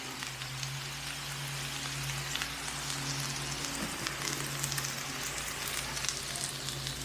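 Chicken fried rice with soy sauce sizzles steadily on a hot Blackstone griddle, a dense, even crackle that holds without a break, close and alone.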